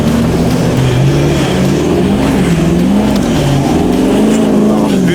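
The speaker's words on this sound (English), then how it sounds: "Who doesn't love the sound of a V8 on song?" A V8 car engine drives on a wet track, pedal to the floor, with a loud, sustained drone that wavers up and down as it revs and slips, staying close and steady throughout.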